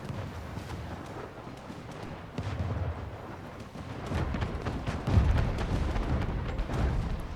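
Artillery fire from a ship attack in the Anno 1800 strategy game, heard as a dense, continuous rumble of booms and bursts that grows louder midway, with no talk.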